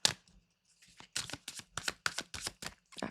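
Tarot cards being shuffled by hand in a series of quick, crisp riffling bursts with short gaps between them, close and fairly clear with no talking.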